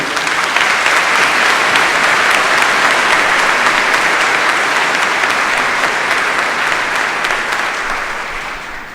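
Loud, sustained applause from a large crowd at a college commencement ceremony fills the whole stretch, thick and steady, easing slightly toward the end.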